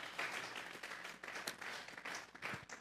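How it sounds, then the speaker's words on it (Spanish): Church congregation applauding during a Sunday afternoon service, a moderate, steady wash of clapping from many hands at medium distance, continuous for about three seconds with slight swells. "Vamos a darle un fuerte aplauso pues al Señor esta tarde"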